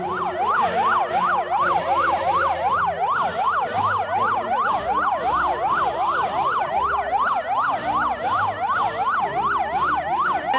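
An Indonesian ambulance siren wails loudly in a rapid, rising-and-falling cycle that repeats continuously, close by, with traffic rumble underneath, during a navy evacuation of submarine casualties.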